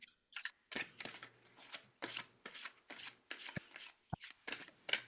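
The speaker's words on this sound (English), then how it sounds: "So if we shuffle again." A deck of oracle cards being shuffled close by, with a run of quick papery riffles and soft slaps in an irregular rhythm, fairly quiet with no talk.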